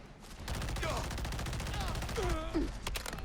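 An FN F2000 rifle firing full auto in modded Fallout 4, heard as a quick burst of sharp shots near the end, mostly under someone talking.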